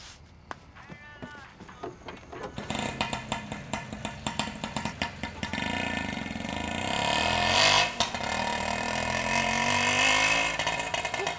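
A vehicle engine cranks and catches, then settles into a loud idle that swells and rumbles steadily, with a voice briefly before it starts.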